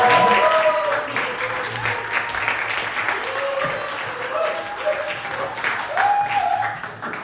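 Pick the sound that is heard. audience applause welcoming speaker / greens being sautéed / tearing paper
audience applause welcoming speaker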